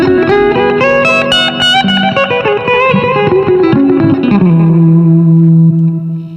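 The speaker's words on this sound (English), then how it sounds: "We have your regular boost, which would sound like this if we turn it on." Electric guitar through a Blackstar Amped 2 clean boost, a quick run of picked notes settling into a sustained ringing chord, loud and bright with some reverb.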